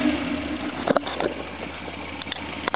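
A Subaru 1800 with a 1.8 litre overhead-valve boxer engine runs steadily at a close, moderate idle, with a few brief mechanical clicks rising over the continuous hum.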